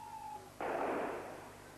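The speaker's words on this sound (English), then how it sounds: "Shots fired down alleyways." A single loud burst of live gunfire from an army firing down alleyways during street unrest, sharp onset followed by a broad, sustained crackling wash that slowly fades, preceded by a faint steady tone.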